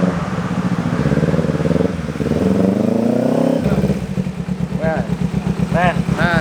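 A modified Kawasaki Ninja motorcycle engine runs and revs in repeated surges, with people talking over it throughout.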